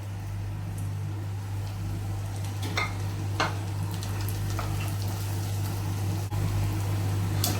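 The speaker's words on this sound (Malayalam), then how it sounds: "നന്നായിട്ട് ഇളക്കി കൊടുക്കാം നന്നായിട്ട് വഴറ്റിയെടുക്കാം" Shallots, onion and three green chilies sautéing in a pan for chicken roast, a low steady sizzle with a few scattered stirring scrapes over a constant mechanical hum, no one talking.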